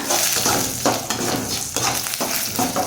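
Cardamom, clove and cinnamon fry in hot oil, making a loud, close, steady sizzle. Repeated scraping strokes of a stirring spoon break through it, and no one speaks.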